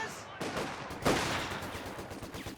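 Vickers machine gun fire in a Company of Heroes 2 match, heard as a dense run of rapid gunshot bursts with sharp cracks mixed into busy battle noise, loud and close throughout.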